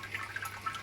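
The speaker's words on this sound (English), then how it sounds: "all of the wort starts draining off the malts into the" Wort draining off the malt bed of a Brewzilla 35-litre brewing system into the boiler, a quiet steady trickle and splash of liquid with faint brief drips, close and alone.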